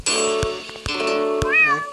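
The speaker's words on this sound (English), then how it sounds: "I'm supposed to pet the cat." A cat meows in The Impossible Quiz video game as it is petted, a sustained harmonic mewing lasting about two seconds, fairly loud and close, with sharp clicks punctuating it and a rising-falling vocal bend near the end.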